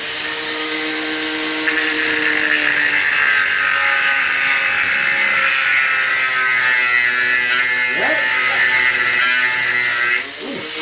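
An angle grinder cuts into a car CV joint: a loud, continuous high-pitched whine with a steady motor drone, starting abruptly and holding for several seconds before cutting off near the end.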